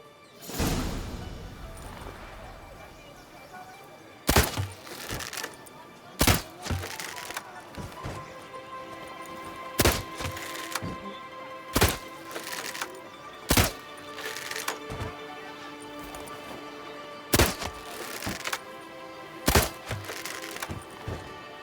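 Shots hit red targets in The Witcher 3, sounding as a series of loud, sharp wooden thunks at irregular intervals over a quiet ambient background.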